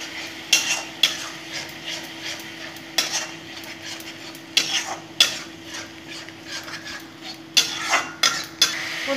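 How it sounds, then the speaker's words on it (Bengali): Whole ground tomato paste with ginger and garlic cooking in a pan for a Bengali bhetki fish kaliya, with repeated scraping and stirring clatter over a low steady sizzle, no talking. "এটা দিয়ে আমি কিছুক্ষণ কষে নেব"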